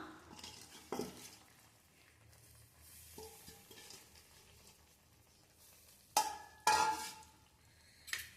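Quiet scraping and stirring of spinach curry in a metal pot, with a few louder clanks of a spoon against the rim.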